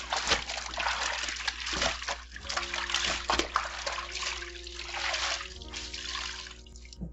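Towels are washed by hand in a basin of water, with repeated splashes, sloshing and dribbling as the fabric is plunged, squeezed and lifted, close and fairly loud, amid faint background clatter.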